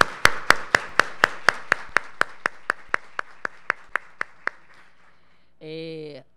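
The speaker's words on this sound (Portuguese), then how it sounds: "uma salva de palmas" Clapping for a gathering on an early literacy teaching stage, heard as a steady run of evenly spaced sharp claps that gradually fade, followed by a short tonal sound.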